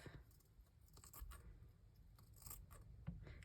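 Scissors snip away a sequined lace edge in a quiet room, with a few faint, brief cutting clicks spread out over a few seconds and no talking.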